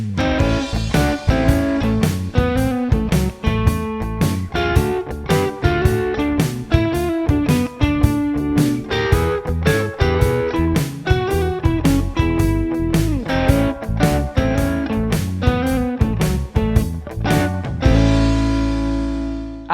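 Electric guitar plays a blues lick over a full band backing track with drums and bass, steady rhythmic phrases running loud and continuous before ending on a sustained held chord.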